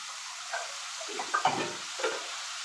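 Spices sizzle in hot oil for a rohu fish curry, with a steady frying hiss and a few brief clattering stir sounds near the middle.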